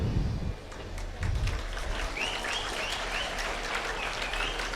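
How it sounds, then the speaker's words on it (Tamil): An audience claps at a Tamil motivational speech, soft, fairly distant scattered applause over a few seconds, with faint bird-like chirps in the background. "இந்த அவை தான் உடனே கைத்தட்டுது"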